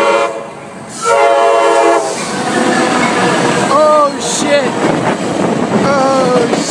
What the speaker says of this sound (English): The train's honking at you